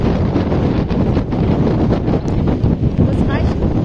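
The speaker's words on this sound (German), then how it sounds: "Wahrscheinlich stärkster Wind." Strong wind buffeting the microphone at Cuxhaven harbour, beside the ferry Greenferry I at its berth, a loud continuous roar with gusty low rumble throughout, no voices.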